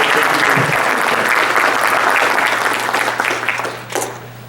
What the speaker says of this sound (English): Let's give a warm round of applause again for all of our elected officials who joined us tonight.